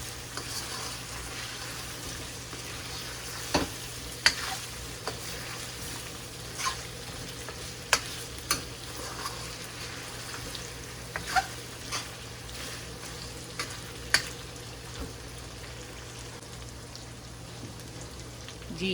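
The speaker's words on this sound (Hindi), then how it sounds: "अभी हम इन मिर्चों को और लहसुन को थोड़ी देर भूनेंगे" Green chilies and garlic frying in a karahi, a quiet steady sizzle with occasional sharp clicks and taps of a utensil against the pan, no voices.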